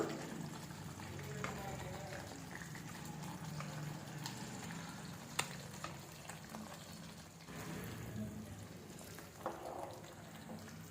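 Thick eggplant curry bubbles and sizzles gently in a pan, soft pops and a low steady simmer, fairly quiet with faint speech underneath.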